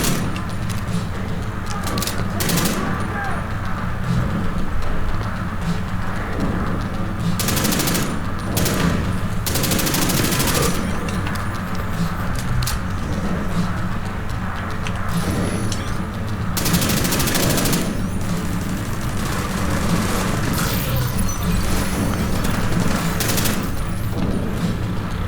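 Continuous rapid automatic fire from a Honey Badger rifle in The Division 2 shooter game, dense overlapping shots with occasional louder bursts and a steady background din throughout.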